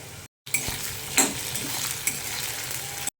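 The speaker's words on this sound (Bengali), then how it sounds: "এবারে দেবো টমেটো কুচি" Chopped tomato drops into hot oil with frying onions, garlic and chilli, setting off a loud close sizzle. A spoon scrapes and stirs against the pan as the hissing continues steadily.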